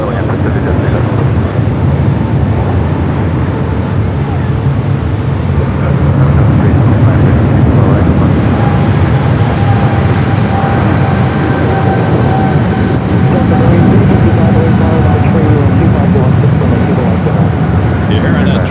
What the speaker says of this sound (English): You're hearing a 777 300 ER taking off there on the south side.